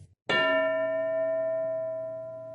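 A single classroom bell struck once, a bright metallic ding that rings on with a clear sustained tone and fades slowly over a couple of seconds, no talking.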